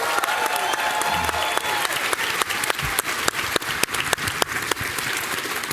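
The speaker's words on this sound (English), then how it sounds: "So please give Renee a round of applause." Audience applauding a performer at a live event, a dense steady wash of many hands clapping at moderate distance, sustained and even throughout with a few sharper individual claps standing out, no voices.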